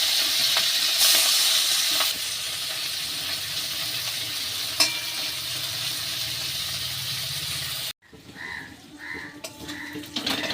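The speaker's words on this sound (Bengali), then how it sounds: "কড়াই তেলটাও গরম হয়ে গেছে আর আমি চিংড়ি মাছগুলোকে ছেড়ে দেবো।" Prawns frying in hot oil in a wok (kadai), a loud, continuous sizzle with occasional stirring clinks that stops abruptly, followed by quieter kitchen sounds and a few faint tones.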